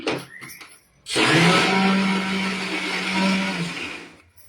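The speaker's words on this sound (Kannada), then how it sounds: "ಇನ್ನೊಂದು ಸ್ವಲ್ಪ ರುಬ್ಕೊ ಬರ್ತೀನಿ" Kitchen mixer grinder whirs loudly for about three seconds as it grinds chana dal for laddu, a steady motor drone with a grinding rattle, preceded and followed by brief clicks and handling knocks.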